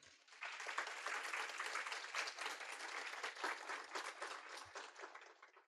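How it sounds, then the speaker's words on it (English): An awards-celebration audience applauds the judges, a sustained wash of many hands clapping that starts abruptly and holds steady, faint and distant-sounding with no talk. "raise your hand and be applauded for a moment"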